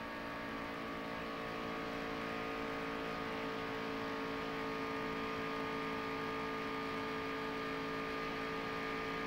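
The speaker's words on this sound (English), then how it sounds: "Listen to the motor in this thing." A NASCAR stock car engine runs wide open during a 1993 Daytona race, a steady, droning multi-tone roar held at constant pitch throughout with no talk over it.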